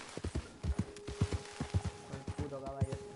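Horse hooves clip-clopping in Red Dead Redemption 2, a steady run of close, even hoofbeats, with a faint tonal game sound rising near the end.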